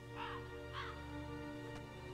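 Two harsh caws from a crow-like bird in the Kingdom Hearts 2 video game, spaced about half a second apart over a steady hum of background music, with no talk.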